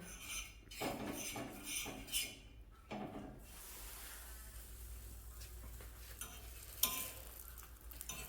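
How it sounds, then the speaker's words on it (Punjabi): Masala roasts in desi ghee in a pan for homemade kulcha chole, with a faint sizzle under repeated scraping stirs of a spoon against the pan. "ਪਹਿਲਾਂ ਦੇਸੀ ਘਿਓ ਦੇ ਵਿੱਚ ਆਪਣੇ ਮਸਾਲਾ ਭੁੰਨ ਲਿਆ"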